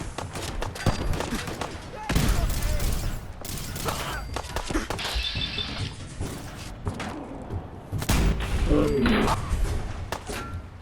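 Disintegrator shots ring out in Fallout 4 gunplay, a string of sharp, punchy bursts mixed with mechanical clatter and thuds over a busy game soundscape, with voices in the mix.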